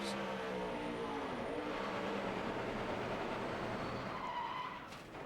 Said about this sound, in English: That was unbelievable wheel hop getting down in that corner.